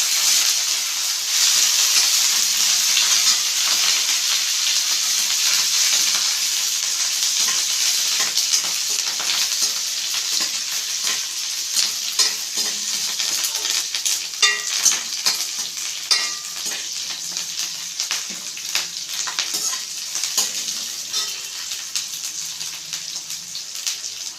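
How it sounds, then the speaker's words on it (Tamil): Curry leaves and garlic sauté in oil in a pan for Chettinad okra mandi, a bright continuous crackling sizzle, close and steady, with light crisp pops growing busier toward the end. "கொஞ்சம் பூண்டையும் சேர்த்துப்போம் நல்லா வதங்கட்டும்"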